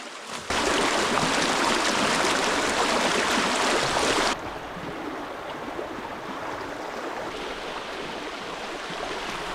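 Fast-flowing stream in the Alaskan backcountry, a steady broadband rush of water that is loud and close at first, then drops to a softer, constant flow midway through, with no talking.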